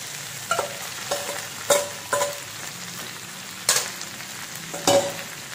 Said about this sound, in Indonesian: Masukkan makaroninya.